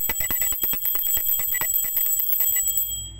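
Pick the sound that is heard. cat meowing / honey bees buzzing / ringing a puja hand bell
ringing a puja hand bell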